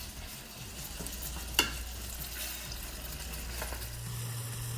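Spicy sausage frying in a pan, a low continuous sizzle with faint stirring scrapes and one sharp clink of a utensil against the pan, heard alone without talk.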